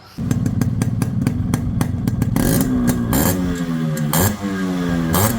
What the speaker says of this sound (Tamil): இப்போ இந்த வண்டியோட பீட் சவுண்டு கேட்கலாம் வாங்க